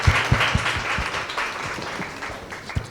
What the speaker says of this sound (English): can we just get a quick cheer for them?